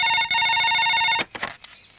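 Telephone ringing through a handset after a number is redialed, a steady electronic ring tone that cuts off abruptly about a second in, followed by brief faint clicks and rustle.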